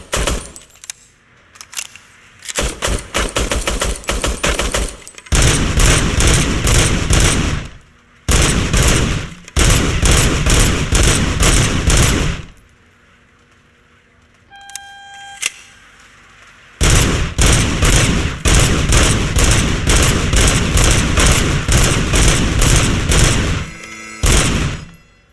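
Rapid service-weapon fire at a shooting range in RoboCop: Rogue City, loud bursts of closely spaced shots in several long strings separated by brief pauses, with a short electronic tone in one gap.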